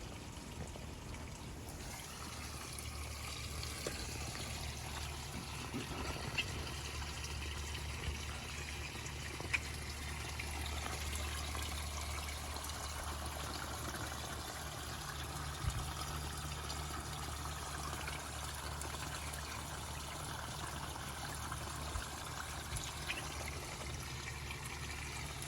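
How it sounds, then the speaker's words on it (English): Water drawn from a garden pond by a pump trickles steadily into a garden tote, a soft, continuous dribble with a low hum under it, faint and unbroken for the whole stretch, no voices. "So what happens is my pump pulls water out of this pond."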